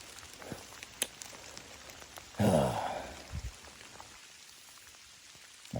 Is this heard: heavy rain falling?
yes